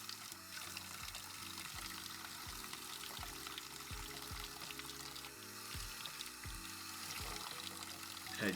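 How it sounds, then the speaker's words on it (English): A watch part is scrubbed with hand soap and the soft side of a sponge under running tap water, giving a steady close pour and splash with repeated low sloshing rubs and no voices. "Now I just use some hand soap and the soft side of a sponge to try to get the rest of it."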